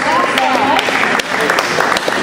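An audience at a neighborhood association's general membership meeting applauds in a dense, lively burst, with a voice speaking over the clapping at the start.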